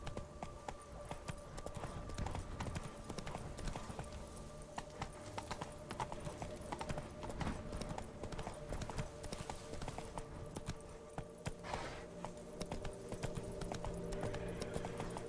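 Hooves of Roach, Geralt's horse in The Witcher 3, clip-clop steadily at a gallop through the whole stretch, close and continuous over a low game ambience and music.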